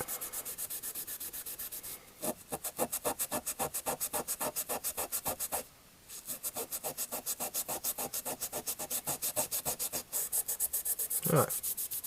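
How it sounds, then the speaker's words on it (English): Rust scrubbed off a knife blade with a Scotch abrasive pad: rapid, steady back-and-forth rasping strokes up close, broken by two brief pauses. "I'll try with this Scotch pad to remove the rust."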